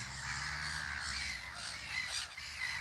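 Crows cawing steadily in a park, several birds disturbed and calling over one another at close range, with a low rumble of wind or traffic underneath.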